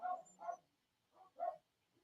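A dog barks indoors, probably at a cat in the window: three or four moderately loud barks in two quick pairs, with a pause between them.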